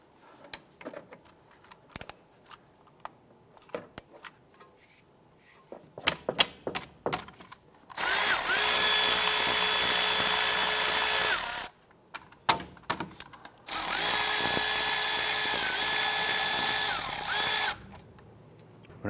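Power tool spinning out 12mm bolts on the back side of a 2001-2005 Honda Civic suspension, two long loud steady whirring bursts separated by a short pause, with scattered clinks and handling noise before them.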